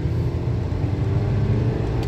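A car driving along a road, heard from inside as a steady low engine and road rumble with a constant whir, loud and continuous without any talking.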